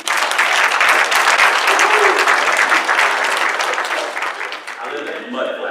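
A comedy-club audience claps loudly for a comedian. The dense applause holds steady, then eases toward the end as a voice begins speaking over it.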